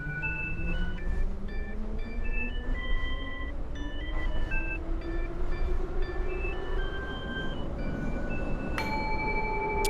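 A train rumbles steadily with a rising low hum as it arrives at a station in the video game Anomaly Exit, while high electronic chime-like tones sound in sequence over it, ending in a bright burst.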